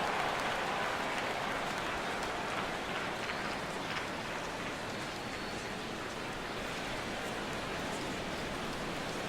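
A stadium crowd in the baseball video game MLB The Show 17 roars and cheers on a 3-2 count, a dense, steady wash of noise with no clear break and no talk over it.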